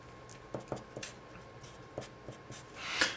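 Marker writing on a board while working a partial derivatives example, heard as a series of faint, irregular squeaky strokes and taps spread across a few seconds, ending in a brief louder rub, with no speech.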